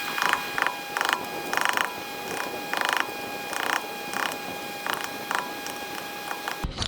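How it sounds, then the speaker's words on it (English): A chisel pushes back a damaged, mushroomed lug nut cap with a run of rhythmic grinding scrapes, about a dozen short bursts at a steady pace. A faint steady whine sits underneath. "I'm gonna push it back with the chisel so we can expose this nut under there"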